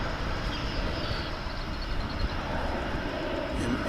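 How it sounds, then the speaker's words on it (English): An American Eagle Embraer 145ER regional jet at Dallas/Fort Worth International Airport, heard as a steady, broadband engine roar that holds at an even, moderately loud level throughout, with no voices. "You'll be hearing a flight from Champaign-Urbana, Illinois, American Eagle"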